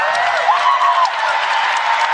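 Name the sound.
Minnesota Gopher crowd cheering for the Blanket Lady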